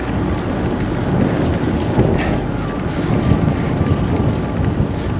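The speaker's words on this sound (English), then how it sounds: "I've been driving into a headwind all day." A strong headwind roars across the microphone of a rider cycling an eBike through hot weather on the Yucatan Peninsula, a loud, continuous broadband rush with gusty swells and no speech.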